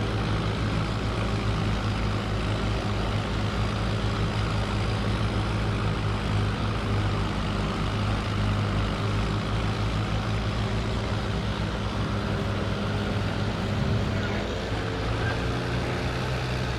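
Farm tractor driving steadily and turning without stopping, a continuous loud engine drone with a strong low rumble and steady harmonic hum, close and unbroken throughout.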